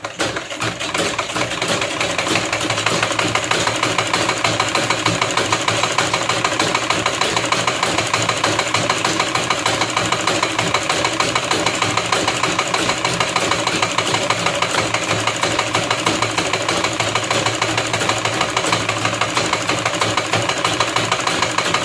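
A sewing machine stitches lace onto a sleeve, running steadily with a fast, even mechanical whir and rapid needle ticking, close and continuous for a long stretch, without talking.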